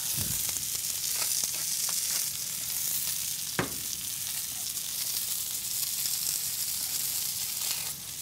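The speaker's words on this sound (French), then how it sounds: "on saisit un vitello, donc le filet de veau, qu'on va faire pour la recette. Donc, on est occupé à rôtir toutes les faces." A veal fillet sears in a hot pan with a constant loud sizzle and crackle, a few clicks of it being turned between the pops, close up and without talk.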